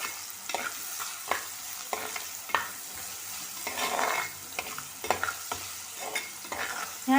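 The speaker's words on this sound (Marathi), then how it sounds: "तर कांदा लवकर शिजण्यासाठी आपण थोडंसं मीठ टाकूया।" Onion fries with a pinch of salt in a pan, a soft continuous sizzle broken by repeated scraping stirs of a spatula, close and fairly quiet with no talking.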